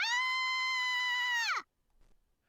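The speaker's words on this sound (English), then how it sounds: "Saber screamed." A woman's high-pitched, sustained scream used as a visual novel sound effect, loud and steady with strong harmonics, then sliding down and cutting off abruptly after about one and a half seconds, followed by near silence.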